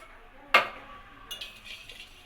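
A spoon clinks sharply against a bowl while gram flour batter tinted with food colour is stirred for motichoor laddu; one bright knock, then softer scraping strokes, close and fairly quiet.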